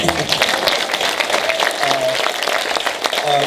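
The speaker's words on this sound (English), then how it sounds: "Yes, round of applause for Terrell McCraney." An audience at a film Q&A with the director claps for the source material's author, brisk close applause with a few voices and whoops mixed in.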